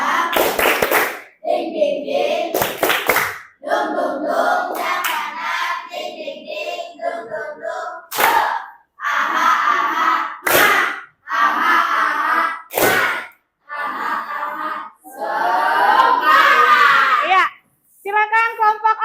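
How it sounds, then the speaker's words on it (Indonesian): A school class in an Indonesian language lesson does a rhythmic spirit clap, sharp bursts of group clapping alternating with a teacher and children speaking and chanting, close and lively. "sebelum kita presentasi, yuk kita tepuk semangat yuk"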